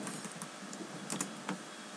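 Typing on a computer keyboard, soft scattered key clicks over a steady background hiss, with a few slightly louder taps.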